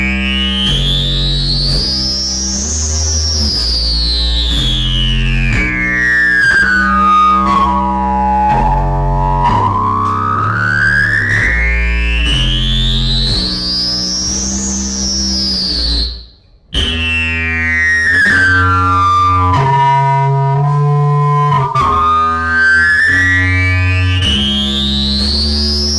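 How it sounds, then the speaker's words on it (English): A Boss SYB-5 bass synthesizer pedal produces a loud, continuous distorted synth tone with rising and falling filter sweeps over a pulsing bass line, briefly cutting out mid-way before resuming, with no talking. "next up is the bass synthesizer, the SYB5"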